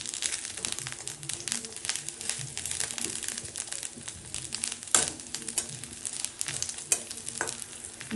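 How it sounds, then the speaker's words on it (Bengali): Two eggplants frying in oil in a pan, a steady soft sizzle with crinkly crackles and occasional scraping stir sounds throughout, fairly quiet and close. "এই সাইডে ভাজা তেলটায় এভাবে দুটি বেগুন ভেজে নিচ্ছি।"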